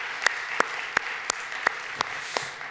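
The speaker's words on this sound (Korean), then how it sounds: "우리 다시 한 번 더 감사의 박수를 주님께 올려드리고 마무리하도록 하겠습니다" A congregation at a Korean young adults' Sunday church service claps in unison, with sharp, evenly spaced claps about three per second over a soft room background.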